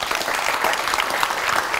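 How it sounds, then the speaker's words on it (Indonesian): Studio audience applause for Angel Elga on an Indonesian talk show, a thick, continuous burst of many hands clapping at an even level throughout, with no talking heard. "boleh tepuk tangan untuk Angel Elga."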